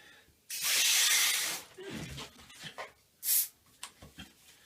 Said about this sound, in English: We're going to inflate these about 5 fingers of tail.